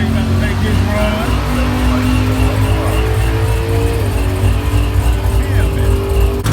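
A cammed Camaro race car runs at the track with a loud, sustained engine drone and rising revs, while people talk over it.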